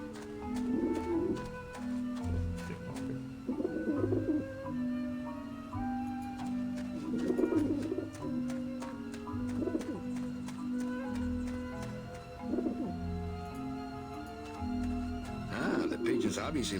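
Pigeons coo on a rooftop dish vent in Grim Fandango Remastered, repeated soft throaty calls recurring every few seconds over a steady tonal background, with a voice talking over them.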